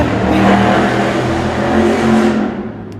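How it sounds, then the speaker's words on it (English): A loud car engine roars past nearby, rising and then fading with a steady droning whir. "And then a loud car goes by"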